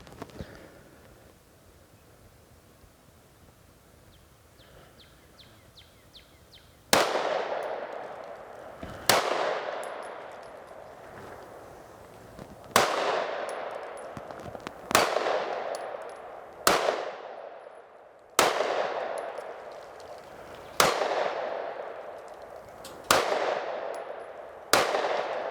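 Sig Sauer P365 XL Specter Comp compensated pistol firing a string of about nine loud, sharp shots spaced roughly two seconds apart, each with a ringing decay, after a quiet stretch with faint handling clicks.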